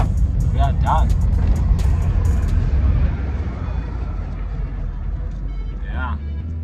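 A Volkswagen Golf MK1 fitted with a straight-pipe exhaust rumbles nearby, louder at first and then settling lower, while a person talks over it.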